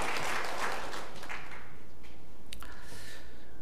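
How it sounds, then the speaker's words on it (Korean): A church congregation applauds after a choir's Christmas performance, a steady wash of many hands clapping that tapers off over a few seconds, with faint noise from the hall underneath. "박수해 주시기 바랍니다."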